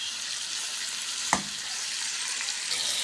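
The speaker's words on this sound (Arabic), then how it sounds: "هو الجمبري ما بياخدش تسويه كتير عامه على النار، فانا هفضل اقلب كده" Shrimp fry in a pan with a steady, close sizzle, broken by a single sharp scrape or clink as they are stirred partway through.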